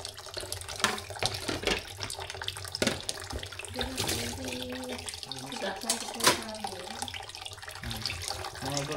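Tap water runs steadily from a faucet while wild banana mushrooms are rinsed under it, a continuous splashing wash behind occasional speech and light handling clatter.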